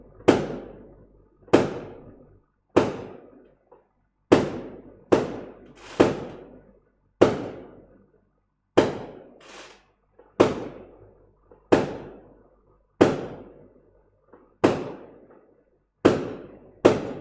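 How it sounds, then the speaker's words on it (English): Fireworks go off outside at night, about a dozen sharp booms arriving one after another at irregular intervals of roughly one to two seconds, each bang echoing briefly before fading, with no talk over them. "Can hear fireworks or not?"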